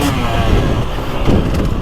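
2023 KTM TX300 Heritage Edition two-stroke dirt bike with an electronic power valve, its engine revving loudly and close with a quick rising burst, no talking.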